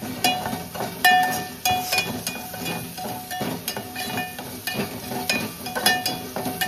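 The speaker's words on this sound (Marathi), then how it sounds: "तर हे आपला कांदा इथे फ्राय होतोय." Onion frying in a pan while cooking kaleji fry, a steady crackling sizzle with scattered clinks and stirring scrapes against the pan, close and fairly loud throughout.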